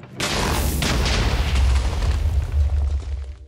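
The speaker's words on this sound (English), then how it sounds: "So let's put on the armor, and let's detonate it." Series of TNT minecarts detonating in Minecraft, a loud continuous rumbling chain of booms lasting several seconds with no talk.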